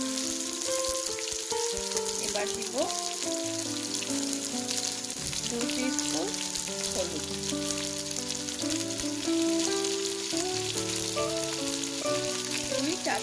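Tomatoes frying in hot oil with frozen ginger-garlic paste for duck curry, a steady sizzle under a constant bed of tonal background music, no voices.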